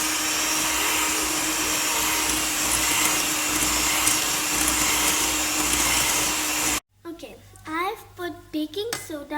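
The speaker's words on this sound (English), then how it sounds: "Let's mix this with the beater with the help of the beater." An electric beater mixes cupcake batter with a loud, steady motor whir for about seven seconds, then stops abruptly, and someone talks afterward.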